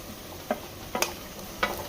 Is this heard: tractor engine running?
no